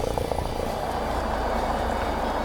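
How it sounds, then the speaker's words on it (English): A helicopter hovering low above the ground in a mountain valley, its steady rotor and engine drone filling the air at moderate distance with a continuous, even rumble. "And the helicopter, one of them, is just hovering above the ground there."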